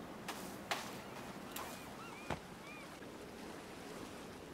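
Gentle surf washing onto a beach in the survival game Sons of the Forest, a soft steady wash with wind, broken by a few faint clicks and brief light taps.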